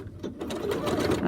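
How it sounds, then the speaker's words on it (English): Regular home sewing machine backstitching fabric for a surgical cap: a close, rapid whirring motor with fast rhythmic stitching clatter, briefly starting and then running steadily. "I'm going to show it on my regular sewing machine."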